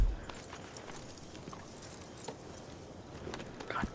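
A horse walks with soft, uneven hoof clops over a low background rumble, the steps fairly faint and scattered across the four seconds, with no talking.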